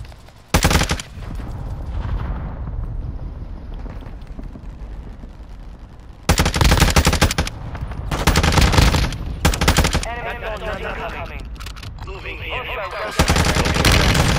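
Gunfire in a first-person shooter game, with bursts of automatic fire separated by quieter stretches of in-game ambience. A voice talks briefly over the shooting.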